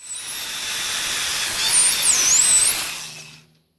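A high, steady electric drill whine with a wavering pitch, polishing a car headlight lens, runs for about three seconds, close and fairly loud, then cuts off abruptly.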